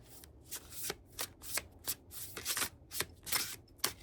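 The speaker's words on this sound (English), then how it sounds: "There's something very therapeutic about hearing cards shuffle" Tarot cards being shuffled up close in repeated quick riffles and flutters, crisp papery bursts separated by brief pauses, with no talking.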